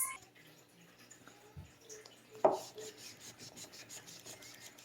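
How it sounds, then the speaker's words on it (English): Quiet, steady rubbing and rasping of a magic eraser scrubbing a doll, with one brief louder knock partway through. "I'm just going to give her a good scrub with the good old magic eraser"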